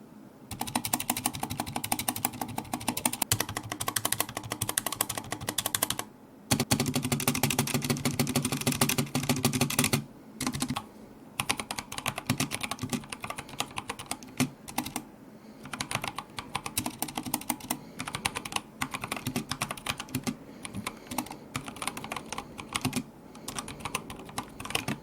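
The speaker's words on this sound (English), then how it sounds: "going to do a typing test for you guys so you can see and hear what it sounds like" Rapid typing on a Drop Shift mechanical keyboard, a dense steady stream of key clacks with brief pauses between bursts, close and clear with no talking.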